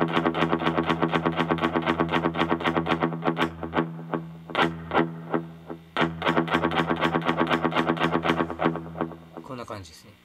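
Distorted electric guitar played through a delay effect with eighth-note repeats layered over the picking. A steady run of bright, echoing notes, loud and close, with no talking.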